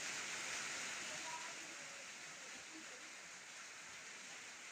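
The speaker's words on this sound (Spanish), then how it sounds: "Por acá está lloviendo, por eso suena un poquito" Rain falls steadily outdoors as a dense, even hiss of drops on surfaces, constant and moderately loud with no other sounds standing out.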